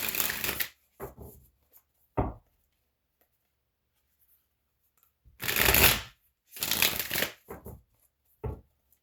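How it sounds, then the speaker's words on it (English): A deck of tarot cards is shuffled in close, loud bursts of papery riffling and flicks, with short bursts early on, a long quiet gap, then two longer riffles and a final snap. "once I get a good shuffle in, like if the shuffle is like smooth and it just flows"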